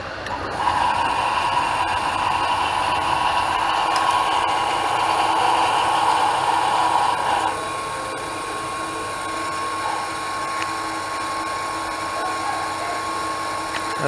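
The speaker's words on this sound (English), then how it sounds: "Even the induction motor and the saw wheel and the grinding wheel," Induction motor driving a thin gem-cutting saw wheel in a Jaipur workshop, a steady whining hum with a high grinding tone for the first seven seconds, then a lower continuous drone.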